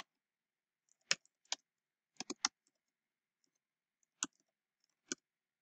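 A handful of sparse, faint clicks of computer keyboard keys as text is typed, scattered singly and in a quick cluster against near silence.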